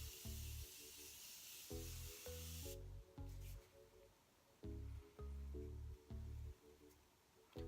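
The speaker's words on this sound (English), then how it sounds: "I'm gonna spray my face, set it" Several short, quiet bursts of face setting spray from a pump bottle, each a crisp airy hiss, arriving in an uneven rhythm of quick double and single pumps close to the face.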